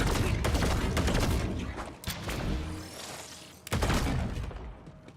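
Video game Borderlands 4 gunfire and explosions blast in dense, loud bursts, with rapid shots and booming blasts tumbling over one another and brief dips between volleys.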